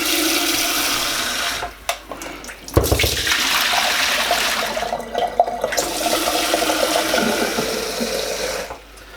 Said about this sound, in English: I'm just going to fill it with water.